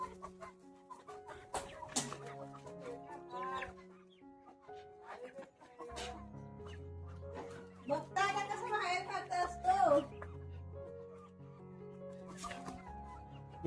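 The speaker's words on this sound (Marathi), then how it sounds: "ही आमची कोंबडी आहेत" Chickens cluck and call repeatedly in a Konkan village yard in Ratnagiri, a steady, fairly close mix of short clucks and rising squawks with a busier burst midway, heard alone without talk.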